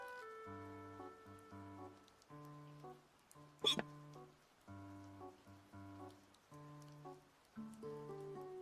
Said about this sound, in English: These hiccups suck.